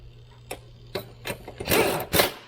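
Wheel lug nuts are tightened on a 2022 Hyundai Kona, producing a series of sharp mechanical clicks and short whirring bursts that grow louder and denser toward the end, close by with no talk.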